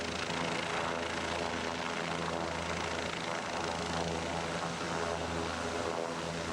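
A helicopter drones continuously over the Kimberley coast, its rotor and engine noise steady and fairly loud throughout as it flies past.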